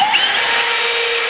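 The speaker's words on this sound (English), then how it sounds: "So we got to install some M5 rib nuts." An M5 rivet nut being installed on a Ferrari 812 Superfast body kit panel: a steady, loud, high-pitched whirring tool drone holds close and constant for the whole moment, with no talk over it.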